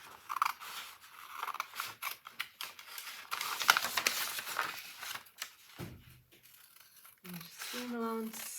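Scissors cut through paper while a flared long-skirt pattern is trimmed, with quick snipping and crinkling mixed under close talking.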